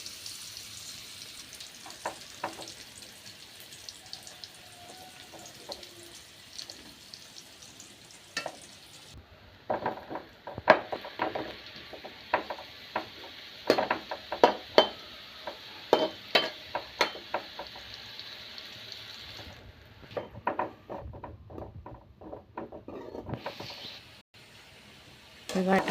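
Bitter gourd coated in chili frying in hot coconut oil gives a continuous sizzling hiss, then many sharp clinks and scrapes of stirring in the pan. A voice talks at times.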